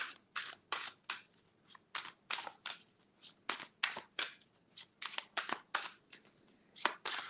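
Tarot cards being shuffled by hand up close, a brisk, irregular series of crisp riffling snaps and slaps with short pauses between, no voices.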